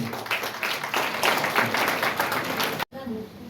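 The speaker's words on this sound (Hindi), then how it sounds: "आप सबकी तालियां कमजोर है" Audience applause at a Hindi Gaurav award ceremony, a dense wash of many hands clapping steadily for about three seconds, then a sudden brief cut and a softer tail of clapping.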